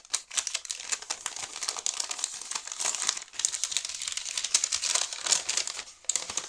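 A plastic pouch from an Advent calendar crinkles and crackles nearby in dense, irregular bursts as it is unpacked, with no speech.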